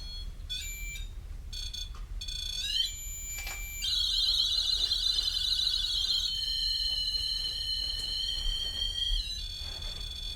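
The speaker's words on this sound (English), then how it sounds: "From the moment that Billy turns on the REM pod, it immediately begins to alarm." A REM pod ghost-hunting device sounds its alarm in a private residence, giving a run of high electronic beeps and then sustained warbling tones that fill the room steadily for several seconds, with no talking.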